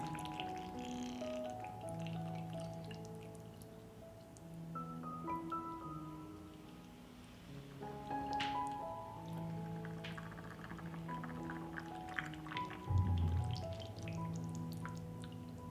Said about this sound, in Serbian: Napunit ću tegle sa vodom